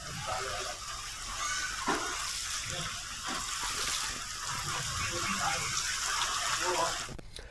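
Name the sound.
rainwater flooding into police station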